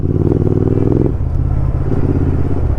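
Royal Enfield Interceptor 650 motorcycle riding in first gear, its engine a loud, steady throb close by with a brief dip partway through before the rumble picks up again.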